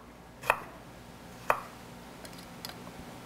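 A knife chops through ginger root on a cutting board, making two crisp, distinct thunks about a second apart, followed by a few fainter ticks, close and alone without talk.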